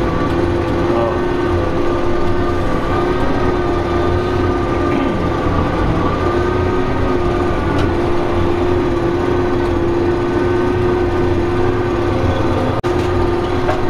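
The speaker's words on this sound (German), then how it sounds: "Jetzt fahren wir erstmal. Fahren wir mit dem Panzer." Riding inside a tank, a loud continuous engine drone blends with rumbling, clattering tracks, close and steady throughout, with faint voices now and then.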